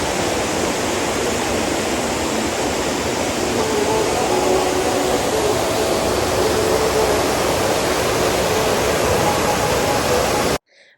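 A river near a jungle cafe in Manali rushes in a steady, dense, loud wash of flowing water, unbroken for about ten seconds before cutting off abruptly.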